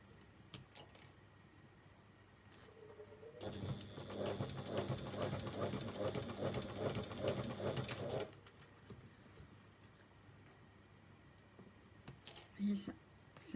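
A sewing machine stitches a zip with bias binding, a rapid even mechanical clatter lasting about five seconds, fairly quiet, with soft handling clicks before and after and pigeons cooing faintly nearby.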